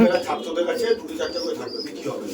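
Flying pigeons kept for sale coo in low, soft, repeated calls, fairly close and continuous, with a steady hum and faint voices in the background.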